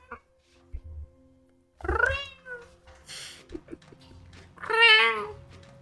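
A person imitates a cat with loud, drawn-out meows during a game livestream, two clear meows a few seconds apart with some quieter sounds between.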